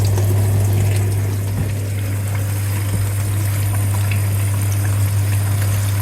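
A flooded dishwasher whose drain pump runs constantly, with a steady loud low hum and continuous rushing, sloshing water throughout, with no voices.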